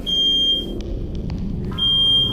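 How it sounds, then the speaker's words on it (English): A shrill, steady high-pitched smoke alarm tone sounds in a home, cuts out briefly amid some soft clicks, then resumes loudly over a low background rumble. "Just woke up to smoke alarm."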